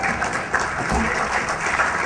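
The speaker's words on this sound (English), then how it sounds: "thank you for the applause" Audience applause during a talk at the DEF CON 18 hacking conference, a steady moderate patter of clapping filling the room with little else over it.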